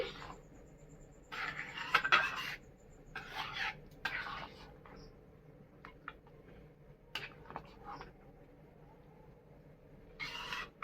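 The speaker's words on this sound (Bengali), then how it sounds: "নুন আর হলুদ আমি দিয়ে দিয়েছি, দিয়ে ভালো করে মিক্স করে নিচ্ছি" Masoor dal with salt and turmeric is stirred in a pot, giving faint, intermittent scrapes and light spoon clinks in short separate bursts, with quiet gaps between them.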